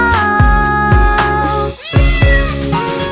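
Cat-like meows rise and fall repeatedly over a musical backing in a song, each one a clear, close, bending cry sounding at a regular rhythm.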